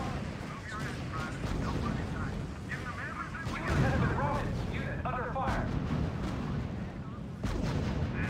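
Gunfire and artillery in the R.U.S.E. strategy video game, a dense, continuous barrage of shots and booms with clustered bursts, loud throughout and mixed with faint radio-style unit voices.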